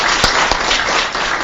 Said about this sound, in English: let's give a round of applause for what I think is an outstanding presentation.